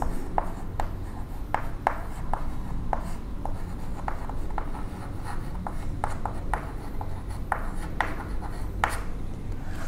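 Chalk taps and scrapes across a board during a chemistry lecture in a steady, close run of short strokes, with no talking.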